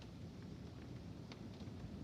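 Morning lightning storm in July 2020, heard as a faint, steady wash of rain with a low rumbling undertone, distant and uneventful through the short stretch.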